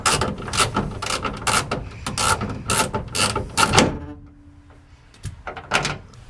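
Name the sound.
ratchet removing window regulator bolts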